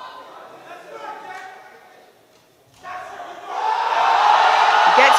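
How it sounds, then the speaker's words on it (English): Crowd at a powerlifting world championship during a deadlift world record attempt, a loud arena roar of cheering and shouting that dips briefly, then swells and holds strong. "The crowd are on their feet."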